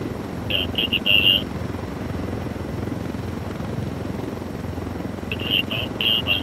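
A helicopter flies in the video game Ghost Recon Wildlands, its steady low rotor rumble running throughout, with short electronic beeping tones near the start and end.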